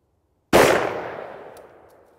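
A single shot from a Smith & Wesson M&P M2.0 10mm pistol firing a lightweight double tap load cracks sharply after silence, then rings out in a long fading echo outdoors.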